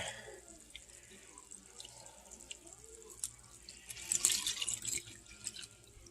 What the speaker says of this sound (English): And then we're going to add 2 cups of water.